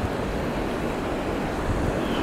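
Floodwater rushing over the overflowing Gasparino dam in Coronel João Sá, Bahia, a loud, dense, unbroken roar close by with no voices.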